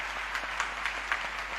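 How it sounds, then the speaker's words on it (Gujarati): Audience clapping together at a gathering, a steady wash of applause with a few louder individual claps standing out, moderately distant and without voices. "એક જોરદાર તાળીઓ પાડીએ આપણે"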